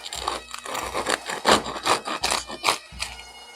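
A knife saws back and forth through a crusty loaf of homemade sourdough bread, producing rhythmic, close, scratchy rasping strokes about eight times in quick succession, with no talking.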